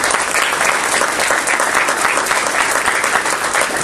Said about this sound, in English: Let's give Brooke Morris a round of applause as well.